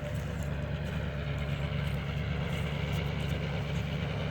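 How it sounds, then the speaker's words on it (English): A 1976 Lincoln Mark IV idles with a quiet, steady exhaust, a low, even rumble and soft broadband hiss that runs without change throughout, no talking over it. "Exhaust is quiet."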